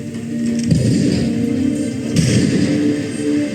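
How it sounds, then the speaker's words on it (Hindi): Booming gunfire-like blasts roll out loudly in a short burst, with heavy low thuds echoing over a rumbling background. "पल भर में नॉट पावर ने आजाद पर गोलियां बरसानी शुरू कर दी।"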